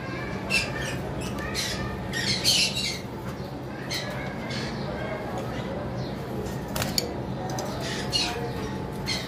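A pair of lovebirds in a bird shop squawk in sharp, scattered bursts. Quieter shop noise continues underneath.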